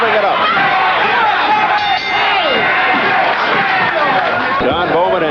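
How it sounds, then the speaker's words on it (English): Boxing arena crowd roaring and whooping between rounds as the bell sounds, a loud, continuous wall of cheering and shouts with voices rising and falling throughout. "And the crowd really revving it up."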